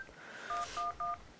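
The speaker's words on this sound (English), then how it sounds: "You select the cell phone and you call Phoenix Wright up to do a case" Cell phone dialing in a video game, called up to reach Phoenix Wright: three quick dual-tone keypad beeps in a row, evenly spaced, heard over faint background game sound.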